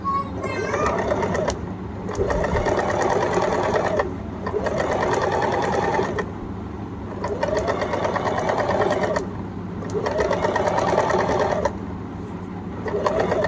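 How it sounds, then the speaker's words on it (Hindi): A sewing machine runs a straight seam line in bursts of steady, fast mechanical whirring and clatter, stopping briefly several times between runs, close and loud. "अब हम सीधा इस पर बिल्कुल सिलाई चलाएंगे।"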